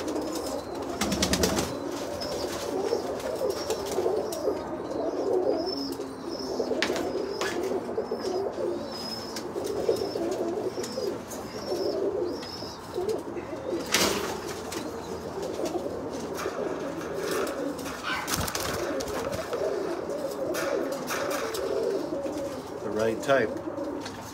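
Pigeons coo softly and steadily in a loft of spinner birds, a low continuous murmur of calls with occasional wing or movement noises, and people talking faintly underneath.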